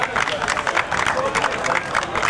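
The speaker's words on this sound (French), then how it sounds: "on peut l'applaudir bien sûr comme il se doit" A crowd at the Turckheim-Trois Epis hill climb podium in 2022 applauds the class N1 winner, with dense, rhythmic clapping and a background murmur of voices, short and steady.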